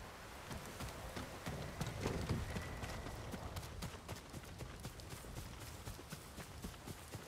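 Horses galloping in the video game Ghost of Tsushima, a fast, continuous clatter of hooves at moderate distance over a busy background wash.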